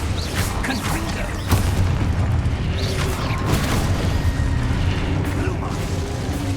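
A Confringo fire-blast spell in Hogwarts Legacy goes off in a booming burst, with several more blasts and crackles following over continuous game noise.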